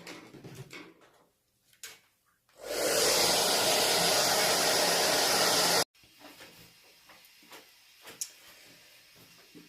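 A hair dryer blasts steadily at close range for about three seconds to dry a watercolor beach painting, then cuts off abruptly, with light handling noises before and after.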